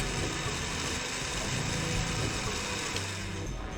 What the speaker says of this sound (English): Okay, time to throw this root in the mixer.